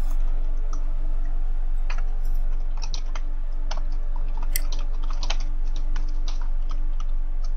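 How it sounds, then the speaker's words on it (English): Quick, irregular clicks from a computer keyboard being typed on, close and fairly crisp, over a steady low electrical hum with no talking. "Are you typing in chat?"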